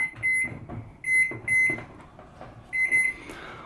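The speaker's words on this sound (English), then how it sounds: "I take all my broken props, and then I throw them in the microwave" A microwave's electronic beeps sound in short repeated bursts, separated by soft clunks and handling noises, close and fairly quiet.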